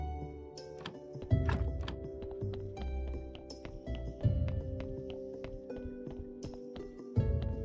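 Donkey hooves clip-clop steadily across the ground in Graveyard Keeper, a run of close, moderately loud hoof thuds with a few heavier knocks mixed in.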